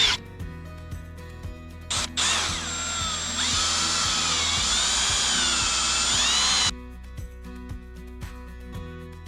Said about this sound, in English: There was a few spots that required us to get out the drill.